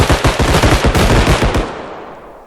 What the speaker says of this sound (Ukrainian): Слухай, стрілянина зі всіх.